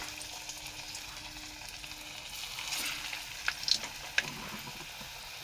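Sweet potato pithe with coconut filling frying in hot oil over a low flame, a soft, fairly quiet sizzle with a few sharp pops and a clink near the end.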